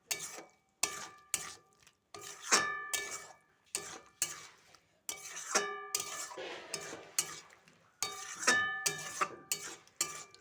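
Papaya curry being mixed with ghee in a pan, with repeated sharp clinks and scrapes of a spoon against the pan in an uneven rhythm, close and fairly crisp, with a soft sizzle between strokes.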